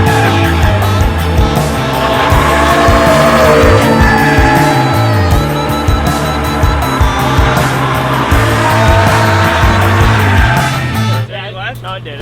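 A loud truck engine with an AWE exhaust revs hard and steadily at full throttle in first gear, tires spinning in a burnout, then cuts off abruptly near the end.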